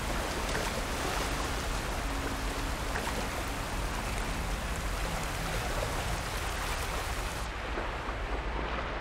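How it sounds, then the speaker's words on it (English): A waterfall in Horizon Forbidden West pours as a steady, dense roar of rushing water, loud and unbroken throughout, with no talk over it. "Let's go behind the fucking waterfall."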